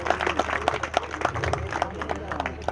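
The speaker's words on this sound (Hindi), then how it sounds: "अगर आपको सभी का ये नाम पसंद है तो आप एक बार ताली बजाकर" Audience applause at a Gaudiya Math temple inauguration ceremony in Shukratal, a short burst of crowd clapping with repeated sharp claps mixed with murmuring voices.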